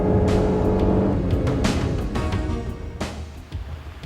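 A 1995 Chrysler Cirrus accelerates hard along a twisty road, its engine note loud and close, rising and shifting for a few seconds with no one talking.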